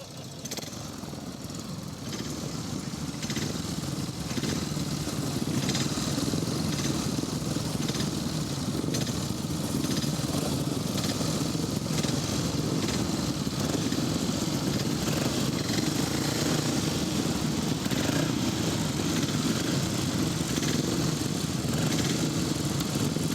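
Several 500cc International sidecar outfits race around a grasstrack, engines roaring steadily and continuously throughout at a fairly constant, moderately distant level, with no voices heard.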